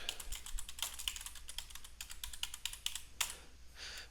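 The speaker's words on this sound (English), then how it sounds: "we're going to just start typing here" Quiet, close typing on a computer keyboard: a brisk, uneven stream of light key clicks with a few brief pauses, heard alone.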